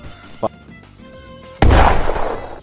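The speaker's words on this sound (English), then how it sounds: "He's chucking nades, he's chucking nades, he's chucking nades" Grenade explosions in the video game Ghosts of Tabor: a short pop sounds first, then a loud, heavy blast bursts in and rumbles on to the end of the clip.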